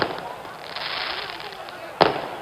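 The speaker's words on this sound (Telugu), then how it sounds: "ఈ టపాకాయలు కాల్చేటోడు మనోడేనా మంచోడవాడు?" Firecrackers burst at a political rally, a sharp crack near the end over a continuous roar of crowd noise and hiss.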